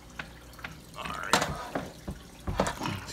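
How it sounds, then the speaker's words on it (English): Water splashing and sloshing in bursts as cichlid fish, a vieja and a severum, are moved out of a home aquarium, with irregular nearby splashes and drips through the short stretch. "I'm getting water everywhere."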